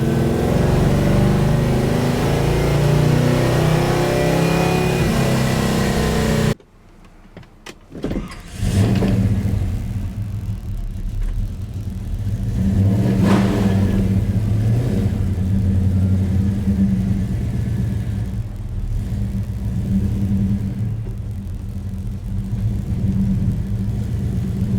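A 1966 Beaumont with a 283 crank in a 400 block rumbles loudly through the cabin while driving. After a sudden drop the engine settles into a steady, deep drone with a mild rise as it revs.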